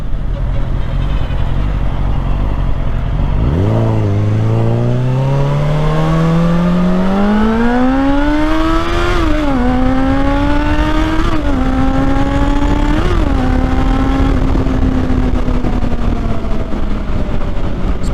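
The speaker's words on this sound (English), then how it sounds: "Also, it just sounds better with that exhaust." A Suzuki GSF600 Bandit motorcycle fitted with a Delkevic exhaust revs up from idle in a long rising climb, blips the throttle a few times, then holds a steady high engine note, loud and close throughout.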